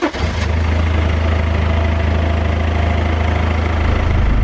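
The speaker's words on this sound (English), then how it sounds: "Now let's get this engine fired up again and get it up to temperature again" BMW E46 engine starting after a coolant flush and settling into a steady idle, a loud, even, low rumble with a brief burst at the start of cranking.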